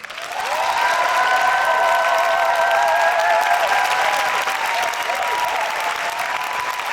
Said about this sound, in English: And let's keep those applause going.